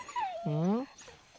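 A very large dog on a farm gives a single short, rising-and-falling whimper close by, lasting under half a second, with a brief human vocal sound just before it.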